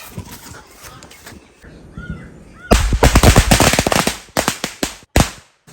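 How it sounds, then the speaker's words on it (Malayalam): A rapid string of sharp firecracker bangs crackles loudly after a quieter stretch, followed by a few more separate pops near the end. "കത്താത്ത പടക്കം ഒന്നുകൂടി ചൂട്ടും പട്ട എന്തെങ്കിലുമൊക്കെ ഒന്ന് വെട്ടിയിട്ട് തീ കൊടുത്ത് നോക്കാം"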